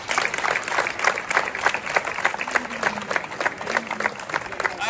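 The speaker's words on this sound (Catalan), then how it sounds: "Un fort aplaudiment." An outdoor audience at a Les Corts giants festival gives a burst of applause, dense continuous clapping from a crowd, fairly close and steady throughout, with a faint voice underneath.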